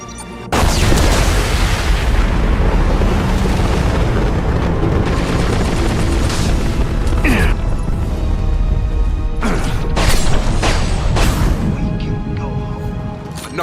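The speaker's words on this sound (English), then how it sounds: "It's about to explode." A loud, sustained explosion in Mass Effect 2 roars on for many seconds, with crashing debris and sharp cracks breaking through a dense rumble.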